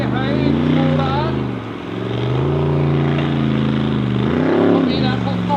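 A Formula Offroad race car crosses the track at a Norwegian championship round in Telemark, its engine droning loud and steady with a brief dip and a rising surge near the end, while a commentator talks over it.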